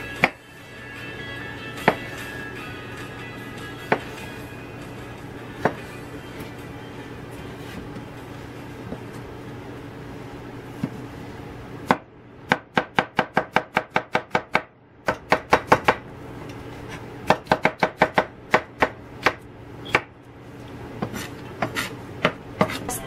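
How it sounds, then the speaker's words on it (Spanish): A knife chops cucumber on a board for shrimp ceviche, sparse single cuts at first, then fast rhythmic bursts of crisp taps, close and clear; no speech. "Yo voy a retirársela y pues ahora voy a cortarlo."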